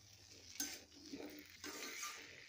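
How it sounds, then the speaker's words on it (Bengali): A spoon stirs masala in a pan with soft scraping and clinks over a faint sizzle, close but quiet, in a few uneven strokes. "তারপরে এটা নাড়বো, মশলাটাকে এইভাবে 10 থেকে 15 মিনিট"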